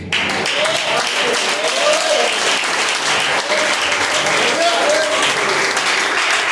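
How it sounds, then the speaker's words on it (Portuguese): A church congregation claps steadily through a worship service, dense continuous applause filling the room with a few voices talking or calling out underneath. "Essas palmas é para Jesus."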